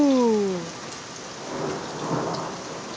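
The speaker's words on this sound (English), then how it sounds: "It's your first thunderstorm." A thunderstorm rolls by with a low rumble of thunder over steady rain hissing on surfaces, loud at first, then easing to a continuous wash.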